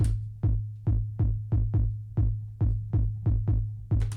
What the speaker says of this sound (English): This is the pattern for Jersey Club.